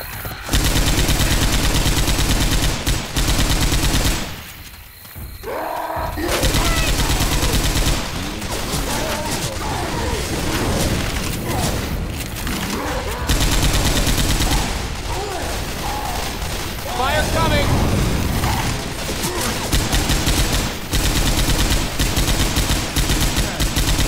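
Loud, sustained gunfire from Left 4 Dead 2 carries rapid automatic bursts and repeated shots almost throughout. There is a short lull near the five-second mark, and a faint voice sits under the shooting.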